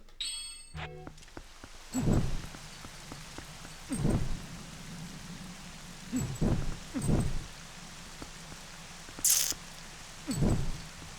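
Rain falls in The Legend of Zelda: Twilight Princess HD as a soft, steady game-world hiss, broken every couple of seconds by short, louder thuds; no talking.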